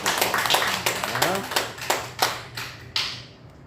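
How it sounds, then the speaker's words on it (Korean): A church congregation claps at the end of a Korean Wednesday worship service. The claps are separate and fairly evenly spaced, mixed with voices and fading toward the end. "우리 하나님께 영광의 박수 올려드리도록 하겠습니다."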